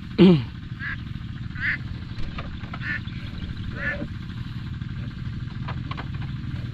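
A flock of ducks being herded outdoors gives scattered quacks, one louder honking call up close at the start, then softer intermittent calls over a steady low background rumble.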